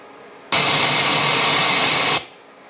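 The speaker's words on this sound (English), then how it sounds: "compare that back to the white noise." A flat broadband white noise test signal, a steady even hiss that switches on abruptly, holds loud and constant for nearly two seconds, then cuts off, with no talking.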